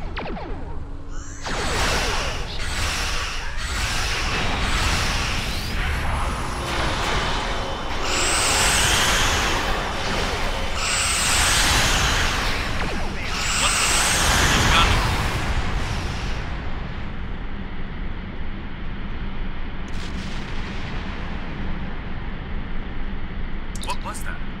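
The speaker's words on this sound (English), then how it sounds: "Computer, arm all weapons and fire!" Starship weapons fire in the space combat game Star Trek Online, a run of loud rumbling, whooshing blasts with a couple of rising tones, steady and close for most of the stretch before thinning into a lower hum.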